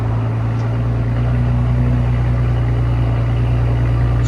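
At close range, a straight-piped 2.9L twin-turbo V6 in a 2023 Porsche Cayenne S sits at idle with an even, loud low drone and a steady throbbing pulse throughout.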